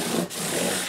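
A Martin guitar being sanded full length with 600 grit sandpaper gives a steady, close rubbing hiss in continuous strokes, with two brief pauses.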